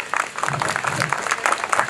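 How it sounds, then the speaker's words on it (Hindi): Loud clapping from an audience of parents and relatives seated for a stage event, a dense continuous patter of hands close by, with some faint voices mixed in. "एक बार ज़ोर से ताली बजा दो एक बार"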